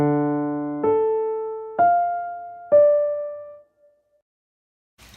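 A plain piano sounds four notes in succession, each struck cleanly and left to decay, the last fading into near silence.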